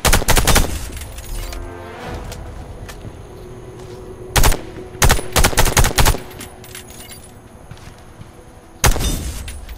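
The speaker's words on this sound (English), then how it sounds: "Hit the targets aiming through your scope." Scoped rifle shots at targets in the Warface shooter game: a burst of gunfire at the start, several sharp separated shots in the middle, and one more loud shot near the end, with quiet game ambience between them.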